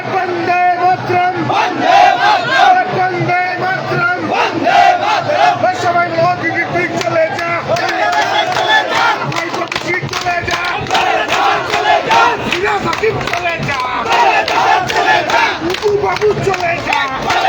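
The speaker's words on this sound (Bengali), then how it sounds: "কর্মী সমর্থকরা তাদের বিধায়ক অজয় রায়কে স্বাগত জানার জন্য মিছিল করে করে আসার সঙ্গে সঙ্গে স্টেশনের মধ্যে স্লোগান শাউটিং করে" Supporters of a BJP procession at Dinhata station in West Bengal shout slogans in loud, rhythmic unison for a long stretch, a dense crowd roar close by with chanted calls repeating over and over.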